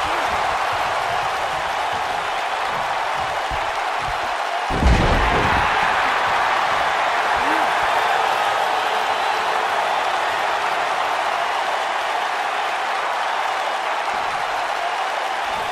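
Arena crowd at a WWE 2K19 wrestling match, a steady broad roar of cheering and applause throughout, with a sharp thud of an impact around a third of the way in.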